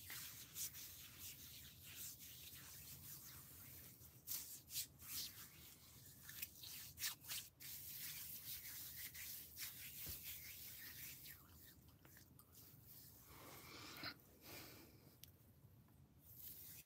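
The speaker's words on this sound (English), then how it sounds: "If you have excess oil, just rub it on your body, your elbows." Hands rubbing massage oil into skin during a night-time neck massage, soft close slick rubbing and gentle friction strokes that continue quietly with small swells, no talking.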